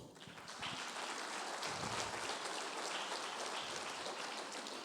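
A church congregation gives a round of applause for the Lord, a dense, even wash of many hands clapping that sounds almost like steady rain, soft and somewhat distant throughout.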